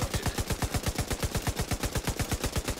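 A rapid automatic burst of gunfire in The Division 2, fired at a light bulb: close, evenly spaced shots at about ten per second that continue without a break.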